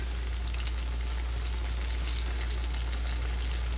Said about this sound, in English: And just frying them up.